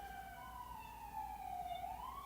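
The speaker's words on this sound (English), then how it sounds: "We also got an ambulance driving down the highway right now." Ambulance siren wailing on a highway, a steady rising and falling tone heard at a distance, faint over a low rumble of background noise with no talk.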